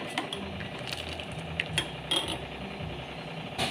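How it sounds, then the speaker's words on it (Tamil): A spoon stirs drumstick leaf rasam in a metal pot, giving a continuous scraping swirl with scattered light clinks against the pot, close and fairly loud with no talking. "லெமன் பிழிஞ்சு விட்டுட்டு நம்ம வந்து ரசத்தை கலக்கி விட்டுக்கலாம்."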